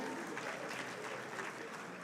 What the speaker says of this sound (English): Solomon Bello, please a round of applause for Solomon.